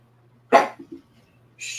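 A dog gives a single sharp bark close by indoors, followed by a couple of faint softer sounds and then a burst of hissy noise, all over a steady low electrical hum.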